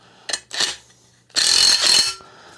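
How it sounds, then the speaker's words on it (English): A bearing being hammered up into the spindle of a Poulan Pro 185A42LT riding mower: two short, sharp metallic knocks, then a louder, sustained burst of clanking strikes, close by with no talking. "I'm going to use this to hammer it up into the spindle"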